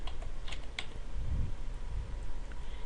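Brisk typing on a computer keyboard into a Word document, a short burst of close, crisp key clicks with a few soft thumps underneath.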